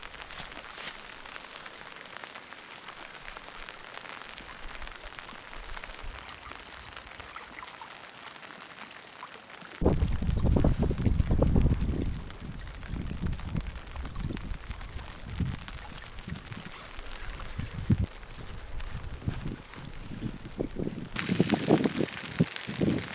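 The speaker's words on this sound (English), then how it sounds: "Also pouring down rain" Heavy rain hisses steadily in the Canadian wilderness, then loud gusty rumbles and irregular thumps join in, like wind and rain battering nearby surfaces.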